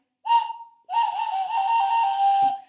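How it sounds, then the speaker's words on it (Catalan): A sharp whistle blown twice, a short toot then a longer sustained shrill blast, loud and close with no voices. "Un xiulet."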